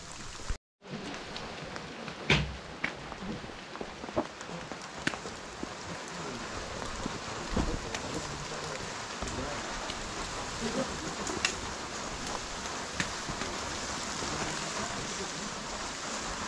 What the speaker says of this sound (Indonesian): Baru lagi hujan sekarang.